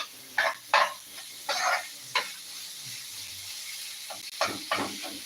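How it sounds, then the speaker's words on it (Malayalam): Spoon scraping and stirring masala for egg roast in a hot pan, with several short scrapes between a steady low sizzle of frying, close and fairly quiet. "നന്നായിട്ട് ഇളക്കി കൊടുക്കുക അപ്പം അതാണ് ഇതിൻ്റെ ഒരു മെയിൻ ഘട്ടം എന്ന് പറയുന്നത്"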